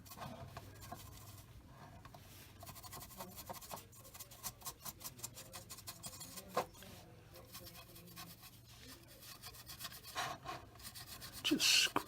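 A stiff old brush scrubs dried paint off a 1/35 Takom M3 Lee model tank, giving a steady close rasping rub with quicker bursts of strokes near the end.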